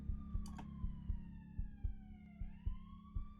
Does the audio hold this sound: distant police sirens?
yes